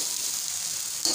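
Cooked rice being stir-fried with vegetables in a hot pan, a bright continuous sizzle and hiss close up, with a brief scrape or stir at the very end.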